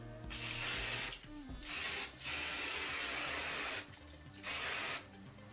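Several short bursts of hairspray hiss out in quick succession, close up, with brief pauses between each spray.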